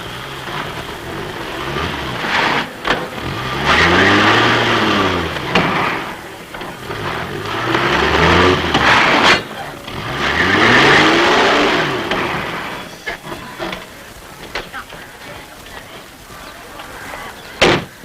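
A car engine revs up and settles repeatedly as the vehicle moves back and forth, with a door thud near the end. Voices talk faintly beneath it.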